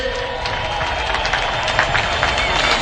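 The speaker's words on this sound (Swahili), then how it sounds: "tumkaribishe kwa shangwe na vigelegele" A large crowd applauds and cheers in a steady, dense roar to welcome the President of Burundi at a Madaraka Day celebration in Kenya, with the clapping and shouting continuous and loud throughout.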